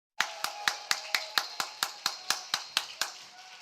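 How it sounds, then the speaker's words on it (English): Audience members at a championship finals event clap for a competitor, about fourteen crisp, evenly spaced claps in a steady rhythm, close and clear with little else around them. "Round of applause for Juan."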